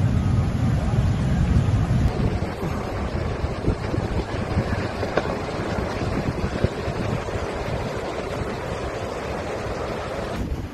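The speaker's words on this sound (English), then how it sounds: "The northern coast of Peru was hit by violent waves reaching up to 6 meters in height" Violent tsunami waves up to six metres high strike the northern coast of Peru, a loud, continuous roar of crashing surf and buffeting wind noise that never lets up.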